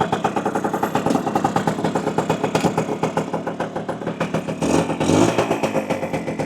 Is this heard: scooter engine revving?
yes